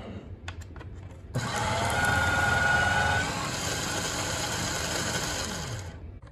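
A paper shredder starts up with a sudden motorized whir and grinding as it shreds a trading card, running steadily for several seconds before cutting off, after a few light clicks.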